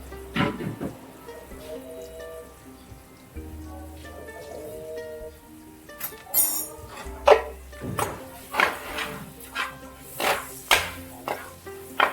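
Stirring spicy potato masala with boiled potatoes in a pan, soft scraping and a series of wet clacking strokes against the pan that become rhythmic and louder in the second half.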